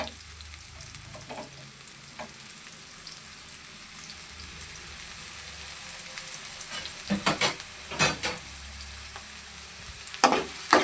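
Two chopped large onions and four green chillies frying in hot oil, a soft steady sizzle with occasional sharper crackles and stirring scrapes growing busier toward the end, no voices present.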